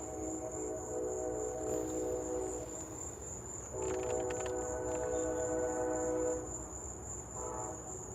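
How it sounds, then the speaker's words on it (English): A train passes at night near a garden, its horn sounding in long sustained blasts that fade and return, with a steady rumble and a constant high chirp of crickets throughout. "A train sound is extremely soothing."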